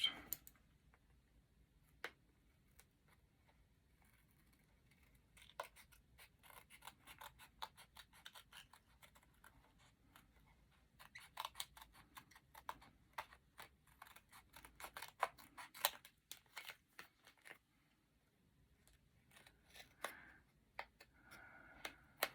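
Scissors snip through card in a long run of crisp, close clicks and crunches, irregular and fairly quiet, with brief pauses between bursts of cutting.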